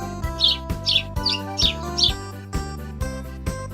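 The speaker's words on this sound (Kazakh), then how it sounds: "Торғай." A sparrow chirps about five times in quick bright bursts, spaced roughly evenly, over steady background music with a thumping beat.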